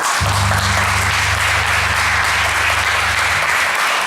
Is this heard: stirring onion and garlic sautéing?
no